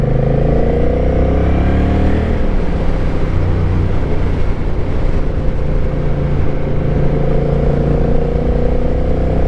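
Engine of a Honda Rebel motorcycle with a dual-clutch transmission, heard loud and steady from the rider's position, its droning tone shifting as the revs change, with constant road and wind rumble.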